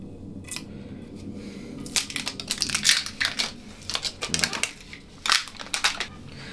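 Plastic wrap is peeled and crumpled off a hockey stick, making close bursts of crinkling and crackling in uneven, irregular handfuls with short quieter pauses between them.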